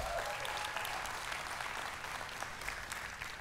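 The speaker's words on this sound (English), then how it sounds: "give them a round of applause for being baptized last weekend" A church congregation applauds a family for being baptized, a soft, steady wash of many hands clapping at a distance, fairly quiet and continuous throughout.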